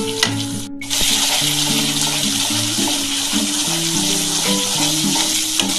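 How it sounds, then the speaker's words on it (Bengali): Spice paste for an egg poach curry sizzles loudly and steadily as it fries in hot oil, a continuous crackling hiss with soft melodic background music underneath. "যতক্ষণ না তেলটা ছেড়ে আসছে ততক্ষণ কিন্তু মশলাটা কষাতে হবে।"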